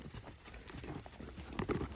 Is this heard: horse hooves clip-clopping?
yes